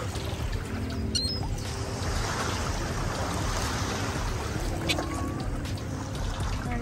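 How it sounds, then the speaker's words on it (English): Surf rolling in at Clearwater Beach, Florida, a constant wash of waves with wind, fairly close, with faint scattered background sounds and no speech. "I don't know if you could hear me because of the waves,"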